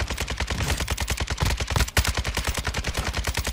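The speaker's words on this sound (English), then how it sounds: "Why the fuck did you shoot at us?" Rapid automatic gunfire in the video game Call of Duty DMZ, a steady stream of loud bursts with a brief pause near the middle before firing resumes.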